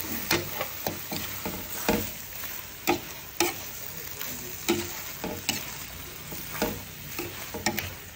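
Taro and corned beef being stirred in a pan for ginataang gabi, with a steady sizzle under repeated scraping clicks of a utensil, close and moderately loud, no talking.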